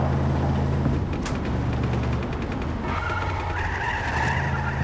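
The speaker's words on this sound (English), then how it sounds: "That was a pretty cool power slide." A car's tires screech in a drawn-out power slide over a droning engine in the video game Just Cause 3, the squeal shifting pitch as the slide continues.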